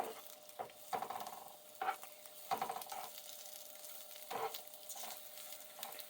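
Peppers and onions stir-frying in a pan give a soft sizzle with several brief scraping stirs, close and moderately quiet, without any talk.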